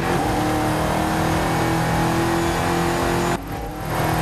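A car engine in Forza Horizon 5 roars steadily at high revs, loud and continuous, then briefly drops off before building again near the end.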